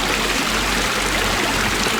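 Water runs steadily while a new koi pond is being rinsed of clay, making a loud, continuous rushing stream with no break.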